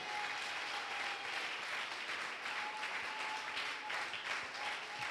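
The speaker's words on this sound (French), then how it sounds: "Give the Lord a big clap." Church congregation clapping during a bilingual French and English worship service, a fairly faint, steady wash of many hands heard from a distance, with a thin sustained tone running beneath it.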